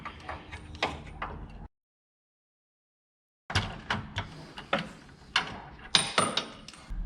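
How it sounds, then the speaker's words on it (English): A ratchet with a deep socket works a motor mount nut on a 1999 Mustang GT, giving close, sharp clicking strokes in short bursts, broken by a few seconds of silence. "I'm going to take the nut off of it and I'm going to go through the K-member with a 1/2 inch and a 7/8 deep socket and U-joint"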